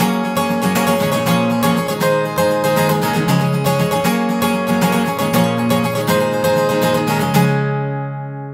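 An acoustic guitar played with a quick 16th-note strumming pattern for a song, dense steady chords strummed continuously and loud, ringing out at the end with no voice over it.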